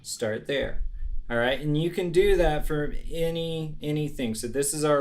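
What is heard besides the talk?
None of the usual background noises is heard.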